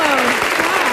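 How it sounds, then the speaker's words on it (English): Studio audience applauding a dancing couple on Dancing with the Stars, dense clapping under a steady tone from the show's music or voices. "Ladies and gentlemen, one final round of applause for Wira and Lisa."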